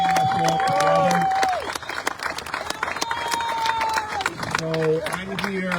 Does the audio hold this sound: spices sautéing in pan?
no